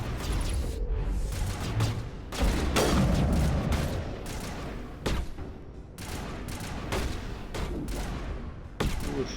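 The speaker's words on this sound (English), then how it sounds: "Who was shooting at us from over there" Rapid bursts of video game gunfire crackle through a firefight, dense fusillades and single shots overlapping, loud and close, with a voice briefly heard among the shooting.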